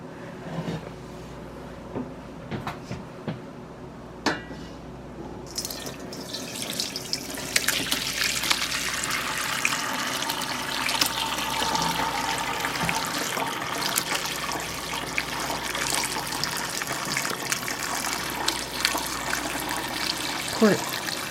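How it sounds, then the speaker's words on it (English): Turkey bone broth is poured through a colander into a stock pot, a sustained liquid rush and splash that starts after a few quiet seconds with small clinks. It stays steady and close to the end. "I have just a stock pot and a colander in it, and we'll pour it in"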